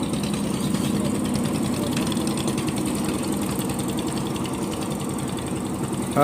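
A trawler boat's engine chugs steadily as it pulls away from a river ferry ghat, a loud continuous low throbbing drone with mechanical rattle, close by and without speech.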